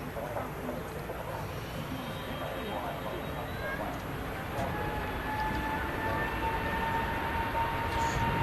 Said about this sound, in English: Scandinavian Neo now starting its takeoff roll